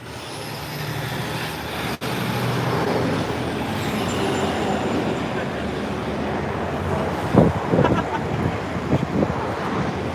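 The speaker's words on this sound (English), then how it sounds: "we got cars going by next" Steady roar of city street traffic as vehicles pass continuously, with a brief clunk and a few rattling bumps near the end, fairly loud and close.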